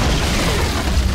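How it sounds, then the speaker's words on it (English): A Dota 2 tower collapsing in a match, a dense low boom with a burst of crumbling noise filling about a second at steady loudness, with no speech over it. "Radiant's bottom tower has fallen"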